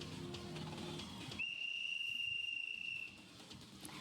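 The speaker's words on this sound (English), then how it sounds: "I heard another whistle, and this time, the sound came from a closer vicinity than before." A sharp, sustained whistle is blown in the Hakuoki video game, a single steady high tone lasting about a second and a half, heard alone with no talk over it.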